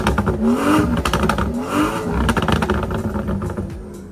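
A BMW B58 straight-six in sport mode revs hard in repeated swells, with crackling exhaust pops and bursts layered over the close, loud engine roar.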